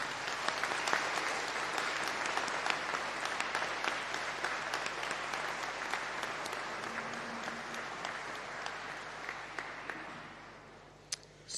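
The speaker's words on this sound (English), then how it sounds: "join me in giving a huge round of applause to say thank you to those who supported you along the way" Audience at a university winter graduation ceremony applauding steadily for about eleven seconds, a dense, even wash of many hands that thins out near the end.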